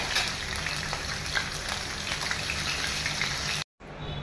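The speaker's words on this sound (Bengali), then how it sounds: "প্রথমে আমি তেলটা গরম হলেই এই পনিরটা একটু ভেজে নেবো" Steady, dense crackling sizzle of paneer frying in hot oil, continuous and close, with a brief cut near the end.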